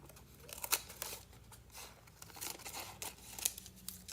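Scissors snip through damp craft material from a mould in several short, crisp cuts, close and fairly quiet, with light crinkling between strokes.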